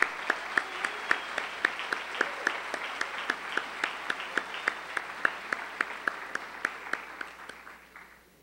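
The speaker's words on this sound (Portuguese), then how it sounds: "Uma salva de palmas a todos os padres e irmãos paulinos." An audience at a communication symposium at FAPCOM claps in honour of the Pauline priests and brothers, a steady, evenly paced run of claps in unison that stays moderate and gradually fades near the end.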